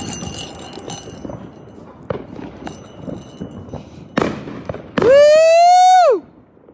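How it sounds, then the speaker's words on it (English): New Year's fireworks go off at a distance, sending scattered pops and sharp bangs over outdoor ambience. A loud, sustained whooping cry follows near the end. "Let me walk down here and see the fireworks."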